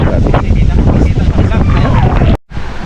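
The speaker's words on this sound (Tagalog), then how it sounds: "Ang sarap ng hangin. Oh, grabe oh. Tingnan niyo mga ka-jokes. Oh, yung hangin, oh, yung niyog, mga dahon-dahon ng niyog." Strong wind rushing through coconut palm fronds, a loud constant roar with microphone buffeting, broken by a brief dropout near the end; someone talks over it.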